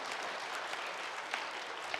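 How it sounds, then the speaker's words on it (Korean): A church congregation at a Sunday worship service claps together, a faint, even wash of applause heard from a distance without distinct individual claps. "박수를 한번 쳐요."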